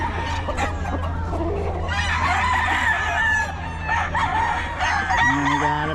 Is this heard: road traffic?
no